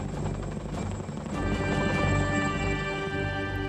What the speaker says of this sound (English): A Chinook helicopter, the workhorse of the military, was ideal for transporting an armor-plated dinosaur from the battlefield.